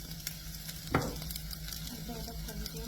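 Fennel seeds and fenugreek being sautéed in hot oil for a winged bean dish, giving a steady soft sizzle with one sharper scrape of a spoon in the pan, close by, with no talking.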